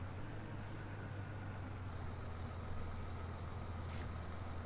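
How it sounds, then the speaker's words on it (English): A tractor engine in the video game Farming Simulator 19 on PS4 rumbles steadily at idle, a loud, continuous low drone with no talking over it. "Might as well park the tractor up as well."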